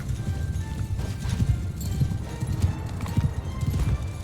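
Video game horses from Mount & Blade II: Bannerlord clip-clop at a quick gallop, hooves thudding in an uneven rhythm, with a faint whinny among the steady clatter.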